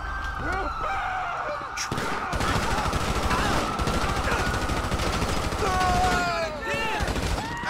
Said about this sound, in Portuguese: Estão atirando na polícia aí, pessoal